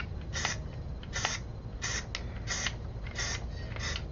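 Repeated short hisses of Krylon primer sprayed from an aerosol can onto miniature figures, seven or so bursts of about a quarter second each over a low steady background, close and fairly faint.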